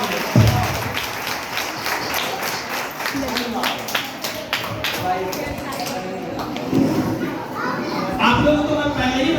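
Audience applause welcoming a new centre at a traders' motivational speech: dense clapping and crowd noise throughout, with people talking and shouting over it.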